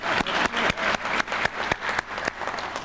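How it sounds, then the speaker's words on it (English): Audience applause at a high school Celebration of Excellence ceremony for the class of 1997: dense, steady clapping from many hands, fairly close and loud, with sharper individual claps popping out of the wash throughout. "so Sharon, you've been applauded."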